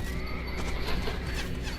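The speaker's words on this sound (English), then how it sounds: "And that's my horse going down." A horse neighs in one sustained, loud whinny close by, with no talk over it.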